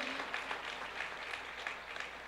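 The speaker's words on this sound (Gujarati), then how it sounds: "એકવાર જોરદાર તાળીઓના ગડગડાટની સાથે આપણે એમને વધાવીએ" An audience at a religious katha gathering claps steadily in a continuous, fairly faint wash of applause with no talk over it.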